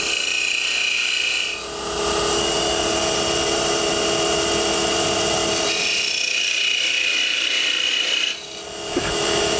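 A parting tool held straight in cuts into wood spinning on a lathe, giving a loud, steady rasping shriek that drops briefly at two points and then resumes.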